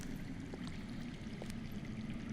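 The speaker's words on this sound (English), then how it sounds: "That's water. I hear water. From underground." Faint underground water flows in a steady low wash inside a dark cave setting in a Game of Thrones video game, a quiet continuous trickle with a few soft clicks and no voices.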